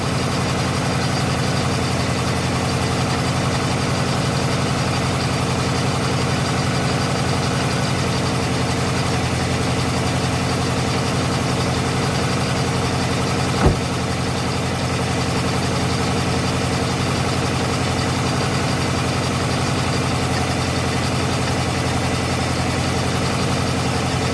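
A 1984 Buick LeSabre engine idles steadily after a spark plug change, a loud, even, continuous hum and rumble close to the microphone with one brief click midway.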